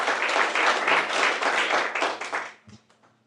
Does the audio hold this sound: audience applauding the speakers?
yes